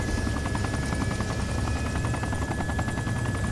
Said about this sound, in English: Are you in a chopper though?